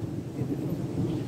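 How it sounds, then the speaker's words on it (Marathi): Thunder rumbling low and continuous as rain begins outdoors, a deep steady roll with no voices over it. "तर बघा कसं पाऊस चालू झालाय"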